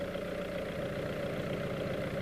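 A 1992-era VW Golf 3 or Vento with the Ecomatic system idles with a steady, low hum, even with no variation, moderately quiet and close by, with no voices.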